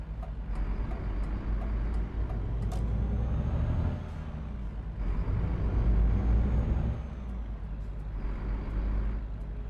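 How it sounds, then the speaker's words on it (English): Default in-game engine sound of a Renault Magnum truck in Euro Truck Simulator 2, a steady low diesel drone that swells and dips under driving, with a brief air-brake style hiss, heard alone without talk. "I do believe this is the default sound. I don't think I'm running a sound mod for this truck."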